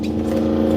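A truck engine revs hard on Palm Beach Boulevard in Florida, a loud, close, rising mechanical roar with a slight clatter, heard briefly and alone.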